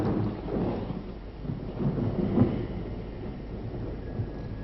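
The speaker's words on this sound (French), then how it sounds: "J'adore l'orage. Pas vous? Pardon? L'orage, enfin le tonnerre." Rumbling thunder during a thunderstorm, a steady low roar with a slightly louder swell midway, heard alone with no voices.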